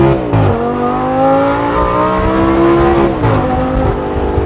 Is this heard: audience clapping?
no